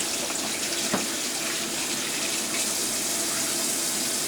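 A tap runs warm water for washing makeup brushes, a steady close hiss of flowing water that continues evenly throughout with no talking.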